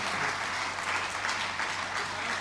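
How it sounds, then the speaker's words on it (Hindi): Audience applause at a Jain community gathering in Ashoknagar, a continuous dense wash of many hands clapping, steady and fairly close throughout. "आइए तालियां जरा जोरदारी से"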